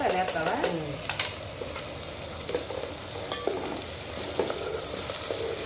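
Ginger garlic paste and tomato sizzle and fry in a pan for goat head curry, a steady close crackle with occasional stirring scrapes and clinks, and a voice talks softly over it at times.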